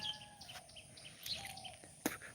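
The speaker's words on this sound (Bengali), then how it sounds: "চতুর্দিকে ঘুঘু পাখির ডাক" Scattered dove calls and chirps sound at a distance over a steady outdoor hum in a winter-crop field, with one brief sharper sound near the end.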